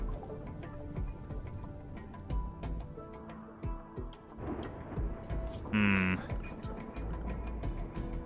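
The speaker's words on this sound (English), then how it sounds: "Apparently there's a flash storm." Rain from a flash storm in the video game Rimworld, a steady patter with scattered drips and taps throughout, plus a short tonal chime near the end.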